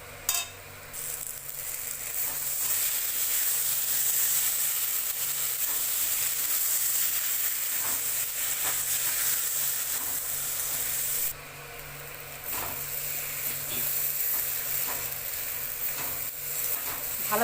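Potatoes sautéing in a pan for egg biryani give a steady, close broadband sizzle with scraping and stirring throughout, briefly dipping near the middle before resuming; no one talks.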